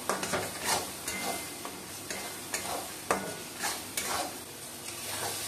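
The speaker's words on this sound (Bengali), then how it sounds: "এবার এটাকে আমি ভালো করে কষাবো" Spiced mutton masala is stir-fried in a pan, with a soft steady sizzle and faint rhythmic scraping strokes of the spoon, quiet and close, with no talking.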